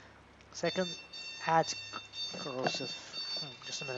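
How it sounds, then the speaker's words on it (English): An alarm clock rings with steady, high electronic tones that run through the whole moment, fairly quiet beneath someone talking over a fantasy role-playing game. "Yeah, that was my alarm."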